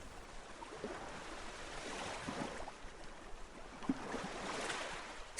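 Gentle ocean waves wash in a slow, soft swell, a steady low rush of surf rising and falling at moderate distance with no voices.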